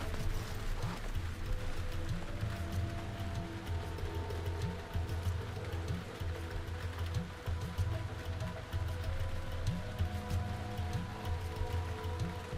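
Steady rain pours on a surface as a dense, continuous hiss with fine patter, with a low mechanical hum running beneath it.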